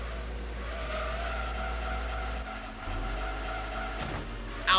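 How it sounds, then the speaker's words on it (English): Race car engine in Gran Turismo 2 drones at a steady pitch with a tire skid, played on original console hardware; a constant, moderately loud tone with a brief low shift midway and no talk. "I'm hearing a bit of engine noise behind the sound."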